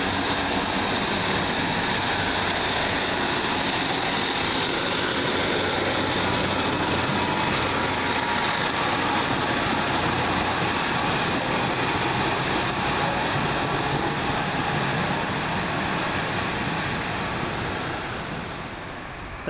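Passenger train 1E89 from Liverpool Lime Street to Scarborough rumbles past at Warrington, a loud sustained roar with wind-like rushing that holds steady, then eases slightly at the end.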